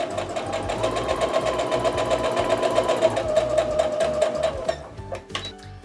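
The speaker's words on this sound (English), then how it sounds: "we're going to go ahead and sew down that as well" Sewing machine stitching quilt block squares, running steadily and close with a fast, even whir of needle strokes for most of the clip, then stopping near the end with a few small clicks and handling noises.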